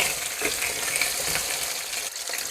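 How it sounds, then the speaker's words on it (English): Red potatoes fry in hot avocado oil while being stirred, a dense continuous sizzle with light scraping and clinks from the stirring, close and fairly loud, no voices. "Now I'm going to put the potato in the oil. Stir it up a little bit."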